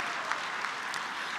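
Crowd applause at a university commencement ceremony for graduates, continuous dense clapping from a large room with a few sharper individual claps standing out, steady and moderately loud over a short stretch.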